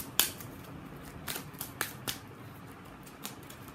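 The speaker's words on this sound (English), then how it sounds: "So let's pull some cards." Tarot cards are drawn from a deck in a short series of crisp, close snaps and flicks, spaced irregularly over a quiet background.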